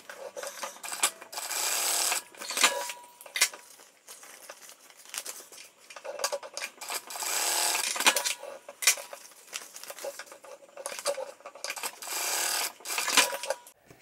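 Sewing machine top stitching a fabric cross body bag: bursts of rapid mechanical whirring stitches, several runs of a second or two separated by pauses and light handling of fabric, close and alone.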